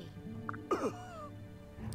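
Fire Emblem Birthright character gives a brief raspy cough, one short harsh burst in the middle over a low game music bed.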